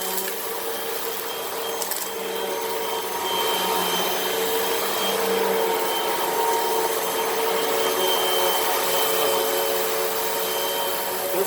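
A Hoover Rewind vacuum cleaner runs steadily over carpet, pulling up dirt with a loud, continuous whine and rushing airflow that holds level throughout, with no voices over it.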